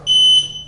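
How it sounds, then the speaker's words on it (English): A single sustained high-pitched electronic beep from a Jazzy Carbon Travel Lite power wheelchair reversing, loud and close, lasting about a third of a second before cutting off over a faint low hum. "when you go backward, it has a beep going backward"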